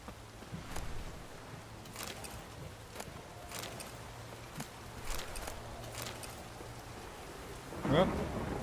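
Rainstorm with thunder in the video game Witcher 3: steady rain hiss with soft, distant thunder rumbles and a few footstep-like knocks, quiet and continuous, brief voice near the end.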